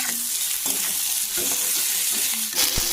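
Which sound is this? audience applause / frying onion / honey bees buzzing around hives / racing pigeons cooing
frying onion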